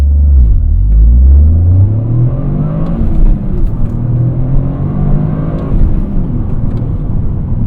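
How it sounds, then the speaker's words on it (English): A used Toyota GR Corolla pulls away from a standstill, its engine rumbling low and loud, then revving upward in rising sweeps as it accelerates hard, heard close from inside the car with no talking. "let's see what this standstill takeoff is about"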